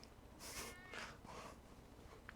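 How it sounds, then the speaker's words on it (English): Cat meows a few times outside, faint and distant, in short drawn-out calls over quiet room tone. "And if you're hearing my cat, she's meowing outside."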